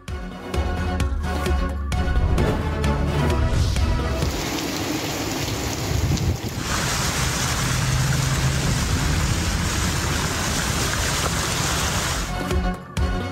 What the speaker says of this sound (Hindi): इस्लामाबाद और रावलपिंडी में मूसलाधार बारिश।